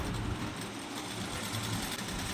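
A sewing machine runs a single pass of stitching along a folded half-inch plazo pant hem, a quiet, continuous rumbling whir.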